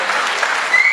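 An audience at a training event claps loudly in a dense, continuous burst of applause for the whole short moment.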